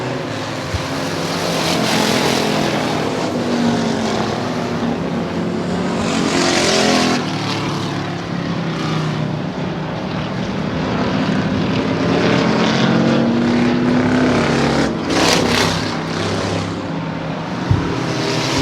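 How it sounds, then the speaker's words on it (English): Engine of the number 7 race car at a Hermiston Raceway event, running rough with mechanical problems as it chugs along, loud and continuous with other cars roaring past, no talk. "You can hear the problems going on with Snoop's car in that number 7 as she just tries to chug along and finish this one out."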